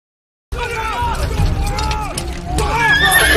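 Horses whinny and neigh repeatedly in a stable, close and loud over a busy background of movement and mechanical clatter, with several overlapping calls toward the end.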